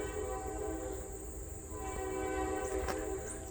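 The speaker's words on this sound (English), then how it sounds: "Oh, the train." A train passes at a distance beside a late-summer garden, giving a sustained tonal rumble with a whistle-like tone and low track noise that swell gently and then ease; no talking.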